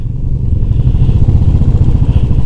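A motorcycle engine idles and chugs close by on a busy roadside stop during a group bike road trip, a loud steady low throb with a slight rising rev.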